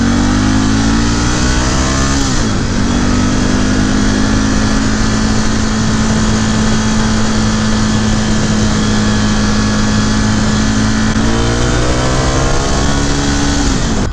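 A 2018 Ducati Scrambler 1100 Special motorcycle engine pulls steadily under acceleration, a loud, close, continuous drone that climbs in pitch, drops with a gear change, holds, then climbs again, with no talking.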